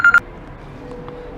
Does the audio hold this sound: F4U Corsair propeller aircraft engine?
no